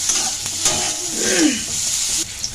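Eggplant pieces frying in a pan over medium heat make a close hissing sizzle with a couple of spoon scrapes and a brief rising squeak as they are stirred, nobody speaking.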